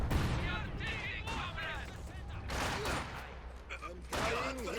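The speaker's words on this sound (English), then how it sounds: "Oops, a barrage onto the sniper again." Artillery barrage in Company of Heroes 2, a 2v2 match: repeated explosive blasts and scattered gunfire rolling across the battlefield, with commentary running over the top.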